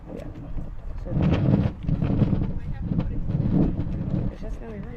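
Wind buffets an outdoor microphone at a rally by the Connecticut State Capitol, a loud, steady rumble with gusty surges throughout, while people talk nearby.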